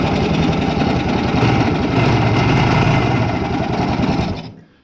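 A 1973 Yamaha AT3 motorcycle engine turning over and trying to start, a loud, close, rapid mechanical chatter that runs steadily for over four seconds before dropping away to silence.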